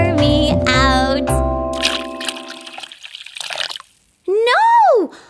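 Tea pours from a tipped teapot in a cartoon children's song, a splashy liquid trickle under sung music and voices, ending with a rising and falling vocal cry.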